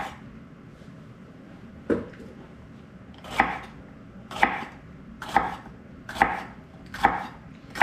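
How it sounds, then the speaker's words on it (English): A knife chopping jalapeno peppers on a cutting board, about seven sharp, evenly spaced chops with brief pauses between, close and clear in a quiet kitchen. "we're going to chop our jalapeno peppers"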